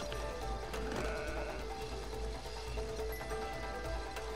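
A sheep bleats in drawn-out, wavering cries over a steady, noisy background, fairly close and continuing for several seconds with no talking.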